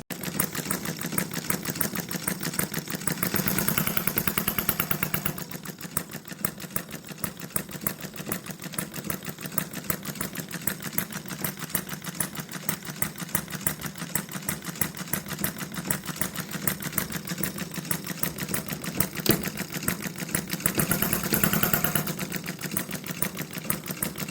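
Small HM-01 Retrol model engine from a kit running fast at wide-open throttle: a continuous, rapid buzzing rattle that stays steady and close for the whole stretch, with brief swells in loudness, no talking.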